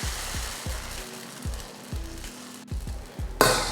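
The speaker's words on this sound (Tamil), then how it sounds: "இப்போ தோசைக்கல் நல்லா காஞ்சிருச்சு. தோசை ஊற்றிக்கலாம்." Dosa batter for a garlic dosa hits a hot griddle. A soft, steady hiss runs beneath a repeating knocking pattern, then swells into a loud, close burst of sizzling near the end.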